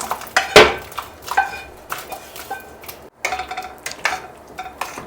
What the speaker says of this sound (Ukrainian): Всипаю його в каструлю.